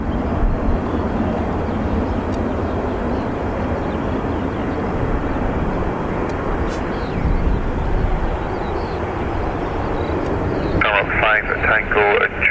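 An Airbus A350 airliner departing runway 28 right at Dublin Airport, a loud, continuous engine roar held close throughout, with voices and radio chatter briefly over the end.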